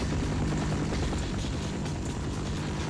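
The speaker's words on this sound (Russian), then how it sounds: "Старый добрый босс вертолет." Helicopter boss in the Half-Life video game, a loud continuous rotor and engine roar with a steady low thrum and fluttering blade chop, close and unbroken for three seconds with no talk.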